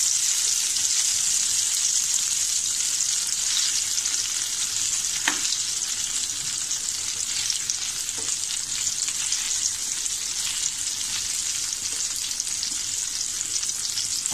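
Chicken pieces fry on a hot iron tawa, giving a dense, steady sizzle that hisses evenly throughout, close and fairly loud, with a couple of faint clinks partway through.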